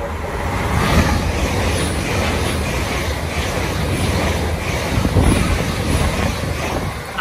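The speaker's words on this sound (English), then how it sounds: "Passing through now is a Great Western Railway service from Plymouth to London Paddington." A Great Western Railway express from Plymouth to London Paddington rushes through Kintbury station, a loud, continuous rumbling roar with rhythmic wheel thumps, close by throughout.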